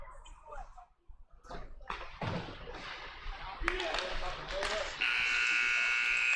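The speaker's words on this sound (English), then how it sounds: "that's the buzzer for into the first period" End-of-period buzzer at a U-14 youth ice hockey game in an arena: after rink clatter and distant voices, a loud, steady electronic buzz starts near the end and holds without a break.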